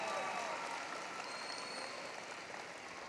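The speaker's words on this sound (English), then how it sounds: "Let's give Miss Abigail another round of applause." A high school graduation crowd applauds a student speaker, a broad, even hiss of many distant hands clapping that holds steady and slowly thins out.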